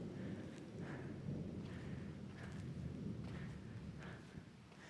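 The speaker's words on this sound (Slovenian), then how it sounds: "Kar se sliši, da že dežuje." Steady tropical rain patters continuously with a soft hiss in Krabi, Thailand, accompanied by faint, repeated dripping taps.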